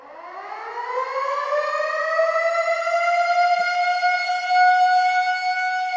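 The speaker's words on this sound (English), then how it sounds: "a little alarming air raid to see if it messes with your nervous system" An air raid siren winds up and holds a loud, rising then steady wail with strong harmonics for several seconds, alone with no voices.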